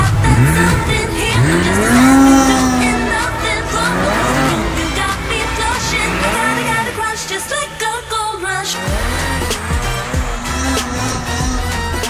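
A snowmobile churns through deep snow, its engine revving up and down in repeated surges and dips, loud and nearby throughout.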